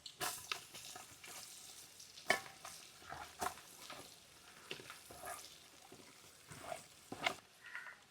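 Mustard seeds, fenugreek, ginger and garlic crackle and sizzle in hot oil for a Kerala-style sardine pickle, with sharp popping bursts and stirring scrapes at a moderate close level and no voices.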